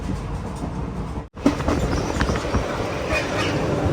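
The Garib Rath Express rolls slowly toward Kannur, a steady rumble with clickety-clack of wheels over joints, briefly cut by a short gap before resuming close and even.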